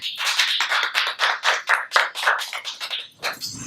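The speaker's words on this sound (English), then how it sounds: "Please give her a round of applause." Applause from a small group, with rapid irregular claps running for several seconds and then tapering off.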